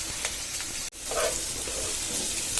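Onions frying in oil for a Bengali fish curry give a steady, close, loud sizzle throughout, with a brief stir-like break near the start and no talking.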